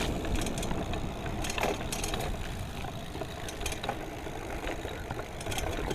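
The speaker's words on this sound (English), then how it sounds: "I'm gonna just hit this last puddle for y'all" A motorcycle splashing through a big puddle: a dense, steady roar of spray and engine noise with rough crackling bursts throughout, close and fairly loud, and no voices.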